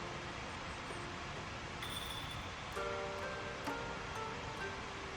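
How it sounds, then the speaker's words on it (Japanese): A waterfall rushes in a mountain stream, a steady broad wash of water noise, fairly faint, with a few small tonal chirps over it. "この滝のザーっていう音だけで癒されるっていうか。"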